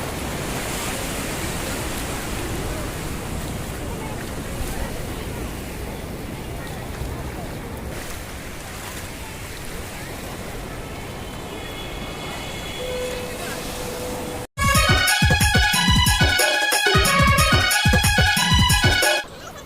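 Big sea waves break on a beach in a steady, roaring wash of surf heard up close for a long stretch, before loud music abruptly cuts in.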